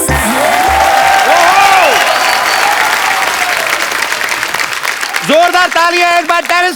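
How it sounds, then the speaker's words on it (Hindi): A studio audience at a comedy talk show breaks into loud, dense applause and cheering that keeps going the whole time. Voices and musical tones rise over the clapping toward the end. "जोरदार तालियां एक बार"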